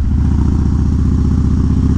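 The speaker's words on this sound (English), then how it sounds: "Harley wheelies." Harley-Davidson Dyna motorcycle engine running loud and close during wheelie practice, a steady low rumbling drone with rapid pulsing firing throughout and no talk.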